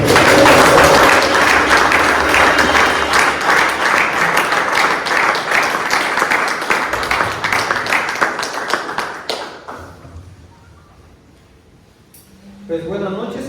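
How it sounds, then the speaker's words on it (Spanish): Loud applause and clapping from a men's church meeting, a dense crowd of hands lasting about nine seconds before dying away to near silence, followed by a brief stir of movement. "¿Por qué no le damos un aplauso?"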